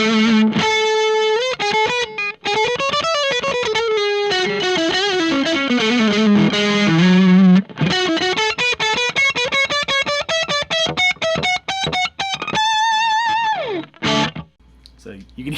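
Distorted electric guitar through the neck single-coil pickup of a Donner Hush-X travel guitar, playing continuous, loud, sustained melodic lines and bends with a short pause near the end.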